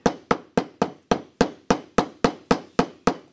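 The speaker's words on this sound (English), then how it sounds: "Very good with that hammer." A hammer strikes steadily while a pirate ship is being built, about a dozen evenly spaced sharp, close knocks in a quick regular rhythm with no talk in between.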